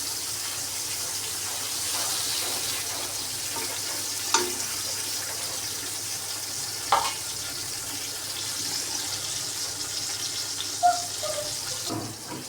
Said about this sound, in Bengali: তো এই যে এখন ভেজে নিই করলাগুলিকে লাল লাল করে একদম।